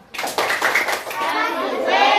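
Schoolchildren in a classroom clap together in the rhythmic "wow" cheer, a dense run of hand claps mixed with loud young voices chanting along, close and lively throughout.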